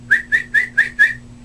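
A person whistles five short, evenly spaced chirping notes, close and clear, imitating a baby's whistle, with no talking.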